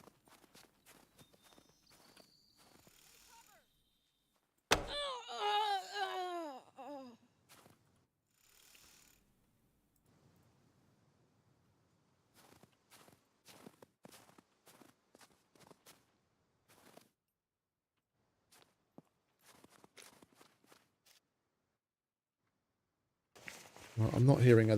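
Footsteps sound in the survival video game SCUM as a sparse, irregular patter of light steps. Scattered bumps and a sudden louder burst break in, and a voice speaks over parts of it.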